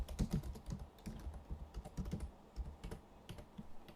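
Password being typed on a computer keyboard while signing into a Windows server instance: a quick, uneven run of close, crisp key clicks that fills the whole stretch with no speech.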